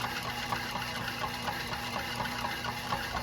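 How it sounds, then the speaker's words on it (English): An old compressor, close to a hundred years old, runs with a fast, even chugging pulse that stays steady throughout the short stretch, with no talking. "So this compressor dates back"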